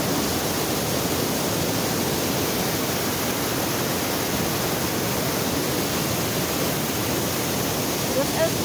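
Constant broad rush of running water in the Black Forest in south-west Germany, loud and close, steady throughout like a stream or small cascade.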